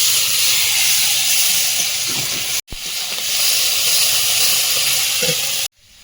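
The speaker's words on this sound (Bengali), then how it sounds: "মশলাটা ভালোভাবে কষিয়ে নেবো" A masala of turmeric, chilli and cumin sizzles while frying with potatoes, a loud close steady hiss with faint stirring scrapes, broken by two brief cuts.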